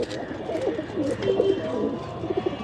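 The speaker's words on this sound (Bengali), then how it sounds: "এই যে কবুতরটা, এই কবুতরটা আমার 2য় দিন আসে" Domestic pigeons kept by a home pigeon keeper coo in soft, low, throaty repeated phrases, fairly close and steady across the whole stretch, with faint background noise and no talking.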